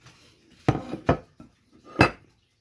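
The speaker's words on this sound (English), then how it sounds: "You take your mag cap off, your mag tube cap off. Phrase that properly. Your barrel slides right out." Steel barrel of a Churchill 612 shotgun sliding out and knocking against the action during disassembly, heard as three or four close metallic clunks and clanks spaced over a couple of seconds, with no talking.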